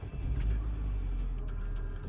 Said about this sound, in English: I'm gonna start my car here.